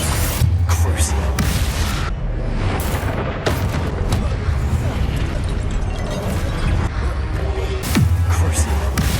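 Crucio spell casts in Hogwarts Legacy, deep booming impacts and magical bursts repeating amid loud layered combat effects, with a voice speaking over them.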